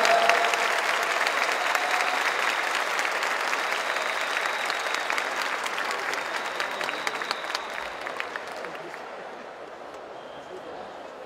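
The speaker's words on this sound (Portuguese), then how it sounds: "fazer uma sessão de aplausos a todos nós" An assembly crowd at a union meeting in Ceará gives sustained applause, dense clapping that fills the room and slowly thins and fades toward the end, with a few sharper claps standing out.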